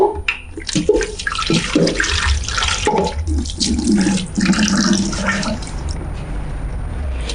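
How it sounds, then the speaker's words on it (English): Water added to a pot of afang soup while cooking, with a steady splashing pour that runs continuously under background kitchen noise for several seconds. "Then I'll add water. I'm going to add water."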